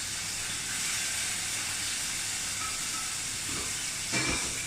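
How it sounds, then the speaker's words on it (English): In a hot pan, vinegar from jarred lazy garlic steams off with a steady, close, broad hiss and sizzle. The sound holds evenly throughout, with a small bump near the end. "just add that to the hot pan and just allow the vinegar that comes in that just to evaporate off"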